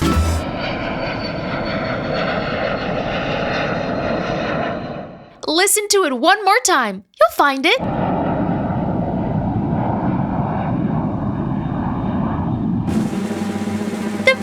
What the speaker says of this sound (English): The vehicle hiding is airplane!